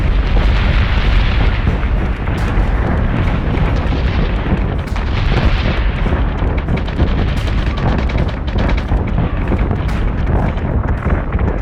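Starship batteries firing in the space combat game Battlestar Galactica Deadlock: a continuous, loud barrage of booming blasts and crackling bursts, densely layered with no pauses across the whole stretch.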